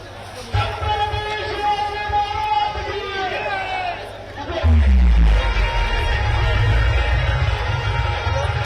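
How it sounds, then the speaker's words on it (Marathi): Marathi rally crowd on the move toward Mumbai, massed voices and shouting chants of Chhatrapati Shivaji Maharaj slogans, a dense babble that swells sharply louder midway with a heavy low rumble and stays loud. "छत्रपती शिवाजी महाराज की जय अशा घोषणा देत मराठा वादळ आपल्याला पुढे सरकताना बघायला मिळतं"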